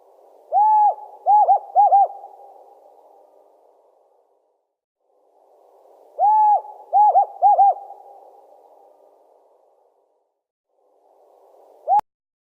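An owl gives two clear bouts of hooting, each a quick series of resonant hoots with gaps of silence between, followed by a short third hoot near the end.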